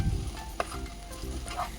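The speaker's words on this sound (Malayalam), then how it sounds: "വറുത്ത് വെച്ചിരിക്കുന്ന എള്ള് കൂടി ചേർത്ത് ഒരു 2-3 മിനിറ്റ് നല്ലതുപോലെ ഇതൊന്ന് മിക്സ് ചെയ്തെടുക്കാം" Coconut, jaggery, flattened rice and sesame get stirred in a pan, with quiet scraping and soft sizzling and a brief clink of the spoon against the pan.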